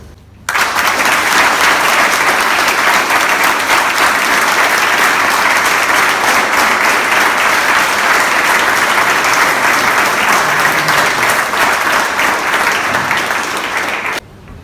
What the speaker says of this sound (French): je souhaiterais que les gens présents ici fassent un moment d'applaudissement pour tous nos anciens qui nous ont quittés